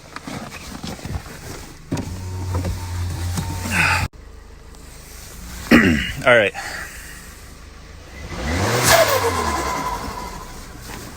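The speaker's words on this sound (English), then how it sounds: "And now the turbo surges." A 2020 Volkswagen Passat turbo, modified to flutter, surging as the engine revs rise and fall in several separate swells with fluttering chatter in between; someone speaks briefly near the start.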